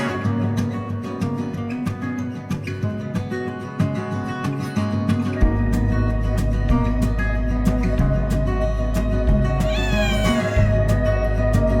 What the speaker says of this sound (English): We have rescued 42 cats from East Valley today.